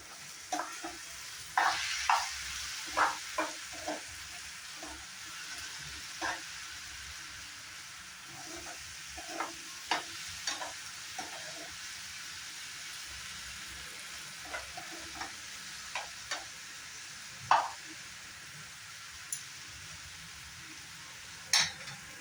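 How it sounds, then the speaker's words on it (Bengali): Dry fish frying with cumin powder in a pan, a steady low sizzle under intermittent sharp scrapes and taps of a spatula stirring, close by and irregularly spaced. "এখন ভালো করে একটু সময় আমি ফ্রাই করে নেব।"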